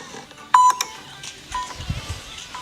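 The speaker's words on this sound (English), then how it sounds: "The timer starts right away." A workout timer gives a sharp, loud electronic beep followed by a couple of fainter beeps, outdoors, with light rustling and soft movement around it.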